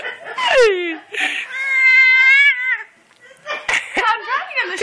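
An angry cat lets out long, loud, wavering yowls close by, rising and falling in pitch, with a short pause between cries and a final growling, broken yowl toward the end.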